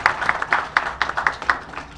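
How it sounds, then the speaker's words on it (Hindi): Listeners at a community gathering give a short round of applause, a few loud claps in a steady rhythm about four per second, sounding like a small group, lasting two seconds. "एक बार जोरदार तालियां दीजिए।"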